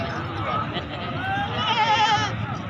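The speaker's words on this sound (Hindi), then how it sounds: "ये जनाब इस भाई का नंबर जे और जनाब ये बकरी जे" A goat bleats loudly and steadily at a busy livestock market, its wavering call carrying over someone talking and crowd murmur.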